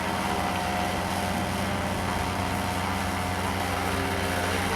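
A paramotor engine at high throttle, a loud, steady buzzing drone with a constant whine, close by and uninterrupted.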